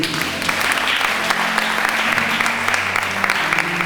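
Congregation at a Sunday church service applauding and cheering in praise, a dense, steady wash of clapping with voices mixed in throughout.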